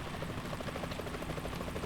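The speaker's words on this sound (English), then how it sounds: "Is that a chopper I just heard?" A helicopter approaching in Metal Gear Solid 2, its rotor thumping in a fast steady pulse under a continuous engine roar, loud and constant, with no voices.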